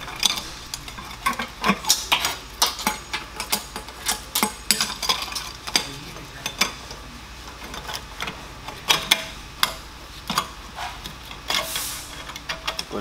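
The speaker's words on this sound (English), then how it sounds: "Now we're going to take our bowl and gasket and put it back on." Bowl, rubber gasket and metal clamp being refitted and tightened onto a Dorothy, giving a run of small clicks, taps and light metallic knocks at close range, irregular and fairly quiet throughout.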